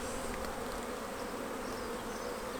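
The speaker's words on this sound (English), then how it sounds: "And there's lots of bees out flying today" Honeybees fly around a hive on a busy day, a continuous soft buzzing drone from many insects, steady and fairly quiet, with no talk.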